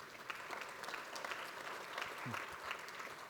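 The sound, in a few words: audience applause thanking sponsors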